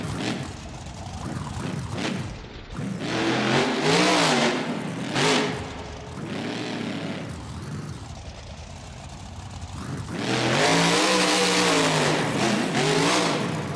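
A monster truck engine in BeamNG.Drive roars and revs hard through a Monster Jam show run, rising and falling in repeated loud surges with sweeping pitch, close and continuous, ending in a long sustained full-throttle howl.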